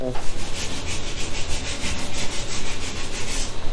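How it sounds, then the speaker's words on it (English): Steady rhythmic sanding on a car body part being prepared for Bondo filler, a continuous close, loud scraping rub with repeated back-and-forth strokes and no talking. "Gotta sand it down a little bit."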